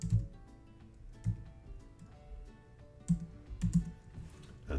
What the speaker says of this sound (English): I will type the name of it. I'll type the scientific name